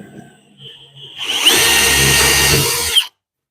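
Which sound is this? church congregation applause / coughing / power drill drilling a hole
power drill drilling a hole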